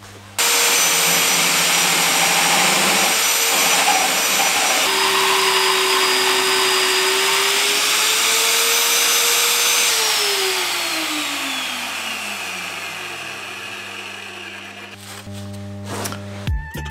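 A VEVOR magnetic drill drills a series of holes while building a ladder. The motor gives a loud, sustained whine that shifts in pitch, then winds down and is followed by a few metallic clanks.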